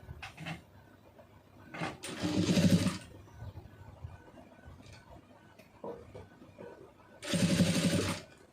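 A sewing machine stitches a cross piece on a blouse. It runs in two short, close bursts of rapid whirring stitching, with quieter fabric handling and small clicks in between.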